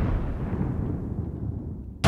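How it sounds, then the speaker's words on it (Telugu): A bomb explosion sound effect in a Telugu TV comedy sketch: a loud, broad rumbling blast that slowly fades over about two seconds, then a sharp new burst right at the end. "మొత్తానికైతే బాంబు అక్కడ పేలింది"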